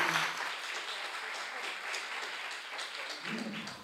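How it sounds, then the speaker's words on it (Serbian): A conference audience at a Women in IT event applauds for several seconds, a steady dense wash of many hands clapping in a hall, with no talk heard over it. "Tako, molim se jedan aplauz."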